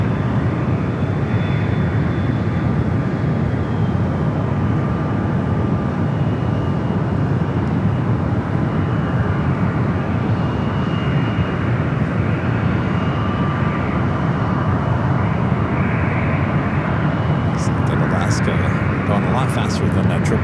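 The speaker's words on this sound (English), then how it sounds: "United 777 on the right-hand side" United Boeing 777 airliner at San Francisco airport, a steady, loud broadband jet engine roar filling the whole stretch with a faint whine above it, while a voice talks over the noise.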